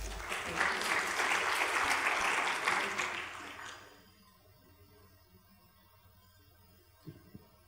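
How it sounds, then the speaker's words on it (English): Audience applause at a MobiCom 2018 conference session after a talk, a dense burst of clapping that fills the first four seconds and then stops abruptly, leaving near silence with a couple of faint knocks near the end. "Let's give him a round of applause."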